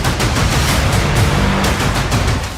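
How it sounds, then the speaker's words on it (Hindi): Artillery guns firing shells at the Gaza border amid a heavy Israeli army buildup: a loud, continuous roar of overlapping blasts and rumbling gunfire with rapid repeated bursts, dense and close, with no voices. "लेकिन तोपों से गोले दागने शुरू हो गए हैं।"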